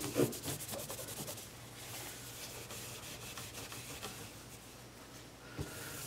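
Food-grade oil is rubbed and wiped off the wooden body of an Epiphone EB-0 bass with a cloth. The soft, steady rubbing and scuffing runs close by for several seconds, with a low hum underneath and no talking.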